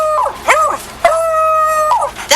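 A man imitates a dog, voicing a sequence of loud, close howls with wavering pitch broken by short yips and barks.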